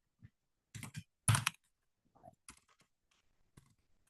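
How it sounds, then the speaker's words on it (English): Typing on a computer keyboard in uneven bursts: a few quick key clicks, a louder cluster, then scattered lighter taps trailing off into quiet, close to the mic. "I know I'm fucking up typing today."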